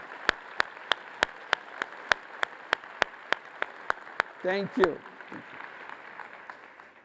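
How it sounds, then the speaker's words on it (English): A single person claps slowly and evenly at a steady beat, then a voice briefly speaks and the clapping fades out. "Let's give a big applause for her."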